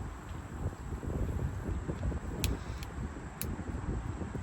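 Gusty wind blows outdoors and buffets the microphone with a constant low rumble, while a few faint clicks sound in the background.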